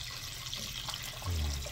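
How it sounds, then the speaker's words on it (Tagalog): Water is poured into a pot of creamy chicken macaroni sopas as it cooks, making a steady soft splashing rush that swells slightly near the end, with no talking. "Tapos dagdagan na natin ng tubig."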